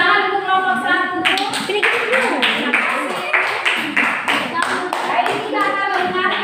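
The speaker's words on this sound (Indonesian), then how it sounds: "tepuk tangan untuk kelompok 1." Classroom of students clapping together for a presenting group during a teacher-training lesson in South Sorong, West Southwest Papua, steady close applause lasting throughout, with a voice and other talk heard over it.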